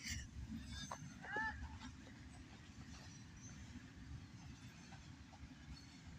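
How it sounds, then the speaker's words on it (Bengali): A Nilsagar Express passenger train rolling past, heard as a faint, low, continuous rail rumble with a few brief squeals and clacks early on, at a distance and under ambient outdoor noise. "ভাই এটা নীলসাগর, এটা নীলসাগর এক্সপ্রেস ট্রেন।"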